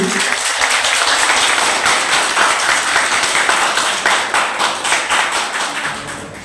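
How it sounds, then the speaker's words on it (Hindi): A crowd applauds loudly and steadily, many hands clapping together, settling into rhythmic unison claps that fade near the end, at a university department's Teachers' Day ceremony. "एक बार जोरदार तालियां एचओडी सर के लिए"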